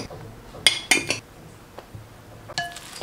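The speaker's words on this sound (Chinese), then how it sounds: "用筷子拌匀，少量多次的加" Chopsticks stirring sweet potato leaf batter in a bowl, a few scattered clinks and taps against the bowl, two close sharp knocks early on and a softer rattle near the end, over quiet room noise.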